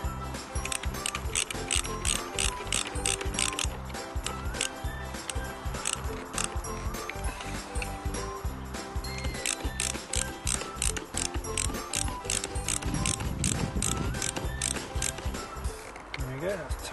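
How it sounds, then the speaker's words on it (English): A ratchet spanner tightening Jubilee clips on a rubber-sealed repair joint of a broken clay drainage pipe outdoors, a rapid, continuous run of close, crisp mechanical clicks, with someone speaking briefly over it. "Now it's just a question of tightening up the Jubilee clips."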